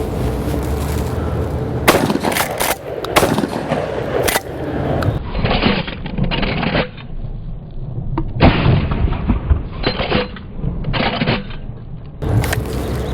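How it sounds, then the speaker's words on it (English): A pump-action shotgun booms several times at close range, with loud blasts spaced a few seconds apart and mechanical clacks of the slide being pumped between shots. "Now when I shoot it, in order for the second shot to be fired, I have to pump the gun, or shuck it as we call it."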